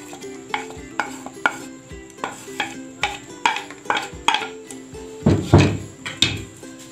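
Onion and tomato tipped into a pot for beef karahi, then stirred with repeated clattering scrapes and knocks of a utensil against metal, a steady rhythmic series with one louder, fuller burst of movement near the end.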